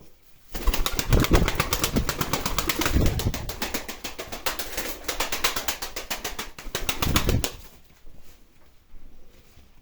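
Pigeons, four of them white, clatter their wings in loud bursts of flapping close by, with soft cooing between the flurries and no talk.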